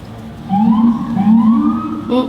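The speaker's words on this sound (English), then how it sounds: "There it is, the siren." An emergency vehicle siren passes outside during indoor makeup application, its wailing tone rising in two long sweeps, fairly loud and clear against a low background hum, with no talk over it.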